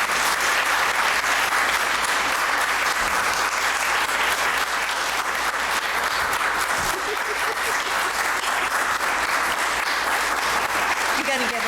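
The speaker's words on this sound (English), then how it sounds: "You're going to give him a chance to clap" Sustained audience applause in a congregation honoring a longtime member with a plaque, dense steady clapping filling the room for nearly twelve seconds with a few voices audible through it.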